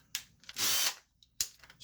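A Ryobi ONE+ two-speed cordless impact driver whirs in two short bursts, one sustained run of about a third of a second between brief clicks and a quick final spin, close and loud with no talking.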